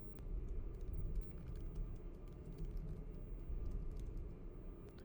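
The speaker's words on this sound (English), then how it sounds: "And here I'm just typing my dictionary" Typing on a computer keyboard, with a rapid, irregular patter of soft key clicks heard up close over a low hum for about five seconds, with no voices.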